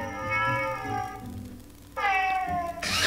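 A Gomer smart robot assistant toy from 2018 gives two electronic cat-like meows, a long tonal mew followed by a second after a brief pause, close and fairly loud with no talking.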